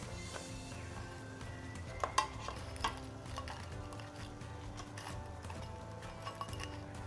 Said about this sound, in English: So go ahead and add in your fish.